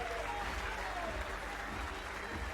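A bowling crowd at the PBA US Open in Indianapolis applauds loudly and steadily, a dense sustained wash of clapping and cheering that fills the arena throughout.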